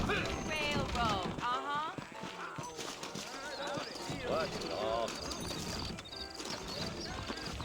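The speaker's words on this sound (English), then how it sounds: "I got the horses saddled up and ready out front." Saddled horses in Red Dead Redemption clip-clop along with hoof beats under dense overlapping character dialogue and game sounds, the trotting staying in the background throughout.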